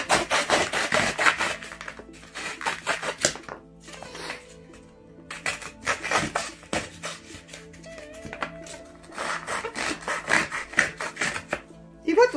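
A cardboard egg carton cell being cut by hand for a craft flower: crisp, close rasping snips come in quick clusters separated by short pauses.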